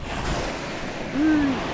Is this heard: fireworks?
no